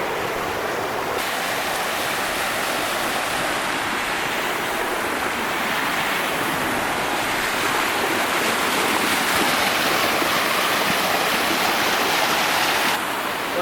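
Steady rushing of river water flowing nearby below a dam, a constant broadband wash with no voices, unchanging for the whole stretch.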